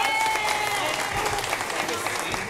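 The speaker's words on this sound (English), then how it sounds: "let's give Joel a round of applause" An audience at a live show gives Joel a round of applause, a loud, dense burst of clapping with crowd noise that carries through the whole moment, and a voice partly heard under it.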